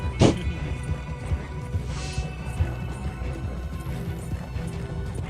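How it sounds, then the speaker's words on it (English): Rhythmic hoofbeats of a galloping horse in the video game Ghost of 1898 thud steadily over a busy background hum, starting with a sharp impact and continuing at a quick, even pace. "you heard my horse coming, right, partner?"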